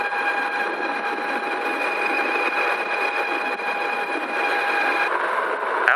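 A Ride1up Revv1 electric bike's stock motor, overvolted to 60 volts, runs at full throttle around 38.8 mph: a steady, loud, high electric whine with tonal layers holds for six seconds, with a slight shift near the end.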